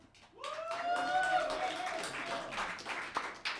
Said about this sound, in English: Keep the applause going for Tim.